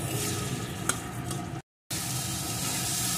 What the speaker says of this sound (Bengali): এখন সমস্ত মশলাটাকে ভালো করে এই আলুর সাথে কষিয়ে নেব।